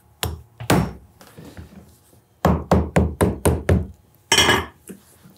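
A hammer drives wooden pegs into the outsole of a bespoke cowboy boot, giving about nine sharp, close wooden knocks: two separate strikes, then a quick rhythmic run of five or six, then one more.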